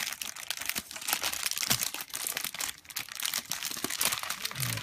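Plastic packaging of Sassoon shark hair clips being opened close up: a quiet, busy stream of crinkling and rustling with small crackles and tears, no talking.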